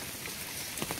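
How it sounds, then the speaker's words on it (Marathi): Heavy rain falls steadily outdoors in the Konkan countryside near a river, a close, dense hiss of drops with no voices. "आता जोरात पाऊस आलाय."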